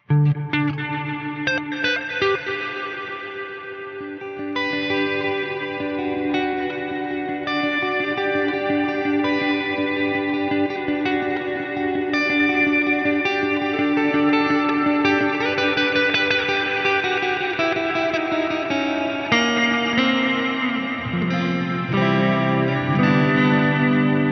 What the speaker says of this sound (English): It's almost a stuttered, almost like a delayed sounded reverb.